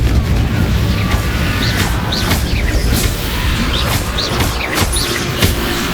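Confringo spell explosion in the Hogwarts Legacy video game: a dense, loud rumbling wash with repeated small bursts and pops scattered across several seconds, heard up close under game ambience.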